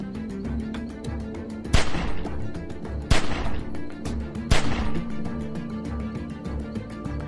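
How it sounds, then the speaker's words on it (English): Gunfire in The Walking Dead 400 Days game, three loud sharp shots spaced about a second and a half apart over a busy, rumbling game background. "As soon as you start shooting"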